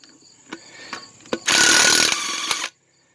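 A Craftsman power tool works on the rear brake hub of a 2004 Dodge Ram 3500: a few sharp clicks, then one loud mechanical burst of about a second before it cuts off.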